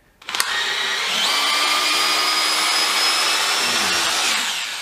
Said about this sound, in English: I'm just taking those 2 screws out because they're no good